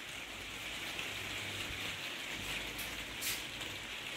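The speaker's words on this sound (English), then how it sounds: "Grey, raining." Steady rain falling outdoors on a grey November morning, a soft continuous hiss at low level with no voices.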